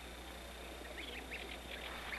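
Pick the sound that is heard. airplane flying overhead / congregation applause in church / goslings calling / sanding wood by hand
goslings calling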